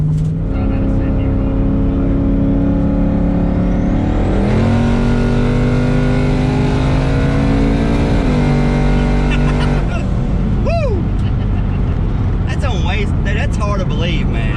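Twin-turbo Coyote-powered S550 Mustang making close to 700 rear-wheel horsepower, engine roaring as it accelerates hard through rising revs for several seconds, then cutting off, with people talking and exclaiming afterward.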